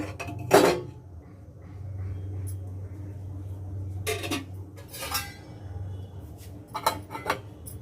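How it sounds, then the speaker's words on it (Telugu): A metal lid clanks onto a pot of cooking bitter gourd stew, a few separate clatters spread out over several seconds above a low background hum. "ఇప్పుడు మూత పెట్టేద్దాము"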